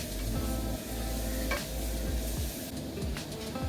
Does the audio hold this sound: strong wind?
no